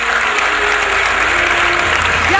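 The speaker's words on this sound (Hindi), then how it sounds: "एक बार जोरदार तालियां।" Loud, sustained applause from a large crowd at a government project launch event in Dehradun, continuous dense clapping throughout.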